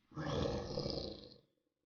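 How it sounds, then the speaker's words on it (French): A huge crinos-form werewolf lets out one loud, rough roar lasting over a second, full and close, then cuts off into silence. "Tu vois un énorme crinos au bout du champ crier."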